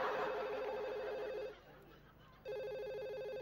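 A telephone rings with a steady electronic trill, pauses briefly, then starts ringing again, fairly close and clear.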